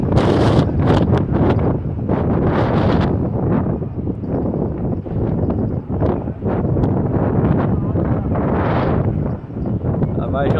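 Strong wind buffets the microphone in loud, ragged gusts on a rainy fishing trip, roaring continuously with rustling and bursts of noise, and people talk under it at times.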